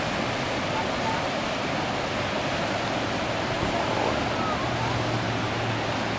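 A tidal bore on Turnagain Arm, Alaska, makes a broad, steady roar of rushing water, loud and constant throughout, with a faint low hum underneath toward the end.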